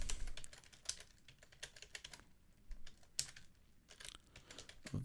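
Someone types code on a computer keyboard. Quick clusters of close key clicks come in irregular bursts with brief pauses between them.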